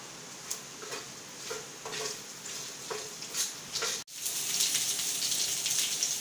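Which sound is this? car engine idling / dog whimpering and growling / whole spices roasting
whole spices roasting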